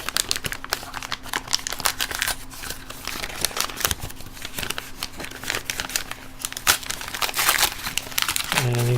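A taped paper mail envelope is torn and crinkled open by hand, with close, irregular bursts of ripping and rustling paper and no talking.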